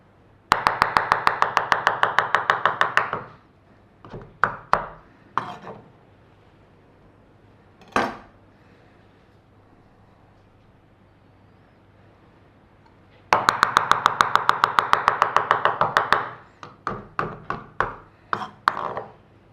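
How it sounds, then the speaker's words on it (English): Rapid bursts of knife chopping layered mushrooms on a board, fast rhythmic taps in two long runs with scattered single chops and pauses between. "I sort of like layer them a little bit and then I just chop through them"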